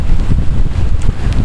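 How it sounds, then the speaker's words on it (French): Strong storm wind buffets the microphone outdoors, a loud, constant low roar with gusty bumps and no voices. "là je vais être en pleine tempête"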